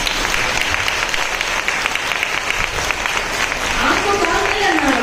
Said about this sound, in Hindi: ताली बजती है प्रभु को।